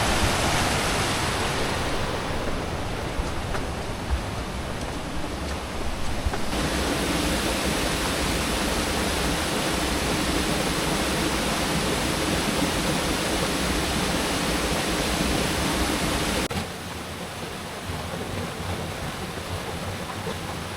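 A river rushes beside a concrete-paved trail on the Sanggabuana mountain route, giving a loud, steady broadband roar that holds for twenty seconds with only small shifts in level and no voices.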